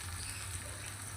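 Green chillies and onion fry in a pan in an Indian village kitchen, a faint, steady, even sizzle with no voices.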